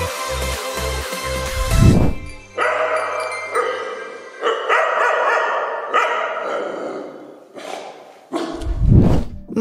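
A three-month-old puppy barks and yips in short repeated bursts, loud and near, mixed with sustained synthetic tones and a whooshing effect. No one speaks.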